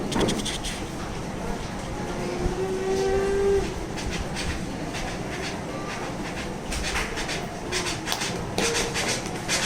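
A person mimics a moving train with their voice at a stage mimicry performance: a steady rumble with rhythmic wheel-like clatter, loud and continuous, with a brief tonal whine partway through.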